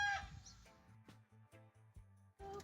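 A small flock of four or five hens and a rooster cluck in a short series of rhythmic calls after a brief louder squawk, fairly close, with no speech over them.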